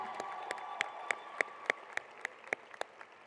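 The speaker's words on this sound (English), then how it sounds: "Please join me in applauding all of their accomplishments." At a high school graduation ceremony, an audience claps in a hall, a loose, fairly thin patter with distinct sharp claps standing out roughly every third of a second.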